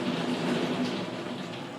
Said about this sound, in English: very nice and rainy today, which is the perfect weather for a readathon.